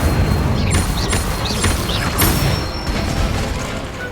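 Magical spell effects from Hogwarts Legacy fire off in quick succession: dense rumbling bursts, crackling pops and rising whooshes layered over a continuous loud game soundscape.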